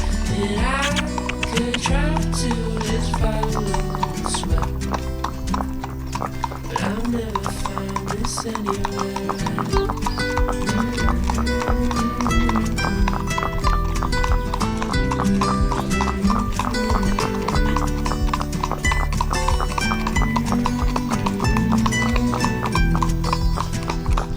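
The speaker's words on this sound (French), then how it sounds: "Vas-y Mimi, trotte" A horse trots on an outing in Normandy, its hooves clip-clopping in a loud, steady, regular rhythm close by, with a neigh and some voices mixed in over the clatter.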